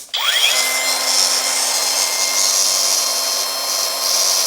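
A Kuang Tian 16.8V cordless angle grinder with a 76mm disc spins up quickly and then runs at a steady high-pitched whine, loud and close, with no voices.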